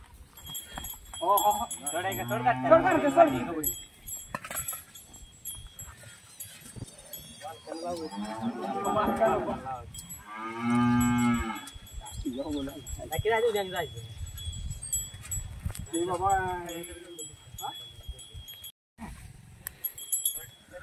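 Several long, deep moos from Khillar cattle, including an aggressive cow, at close range, spaced out over the stretch, with voices and rustling in between.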